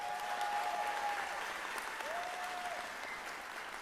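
Steady applause from a crowd at a school district Teacher of the Year celebration, continuous and even throughout, with a faint tone sounding briefly in the background.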